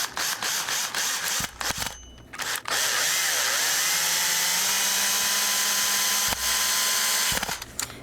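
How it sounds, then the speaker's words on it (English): A power drill drives a screw up through a ceiling to mark a tunnel skylight spot, whining in short bursts and then running in one long steady grinding stretch, close and loud with clicks between runs. "I'm going to drill this right up through the mark."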